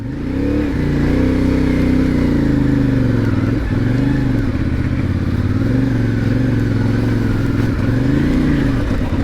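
A CF MOTO 450MT motorcycle on the road, its engine droning loud and steady with rising and falling revs as the rider shifts, under constant wind rush.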